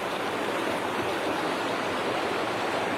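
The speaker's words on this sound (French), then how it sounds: "Une super cascade là-haut, on la voit pas d'ici." A steady, dense roar of rushing water from a waterfall up on a mountainside, continuous and unbroken for the whole stretch, with no voices over it.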